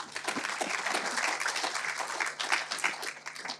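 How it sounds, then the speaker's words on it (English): Applause from a conference audience at a proptech forum as a speaker comes on stage, a fairly faint, even patter of many hands clapping throughout with no voices over it. "Give her a big round of applause."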